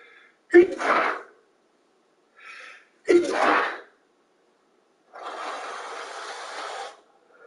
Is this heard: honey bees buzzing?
no